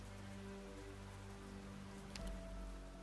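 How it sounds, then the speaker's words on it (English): Light drizzle from the video game Arknights, a steady soft patter of rain spread evenly across the background with a low sustained music bed beneath it and no talking. "A drop of rain falls upon the tip of the spear. The forest's night fog glows as though the dawn has come early in the drizzle."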